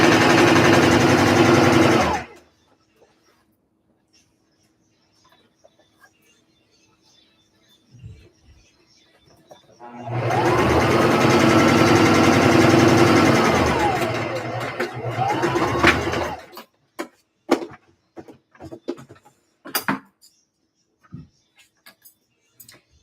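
A sewing machine stitches a vest in two loud, close bursts of steady whirring, a short one and a longer run of about six seconds, followed by quieter clicks and handling sounds.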